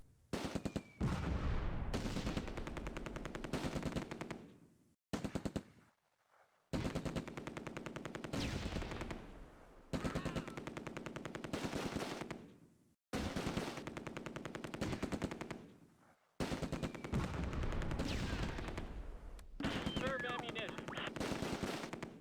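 An airborne .30 caliber machine gun in the World War II game Close Combat: A Bridge Too Far fires long, loud, rapid bursts, about six of them, separated by brief silent gaps.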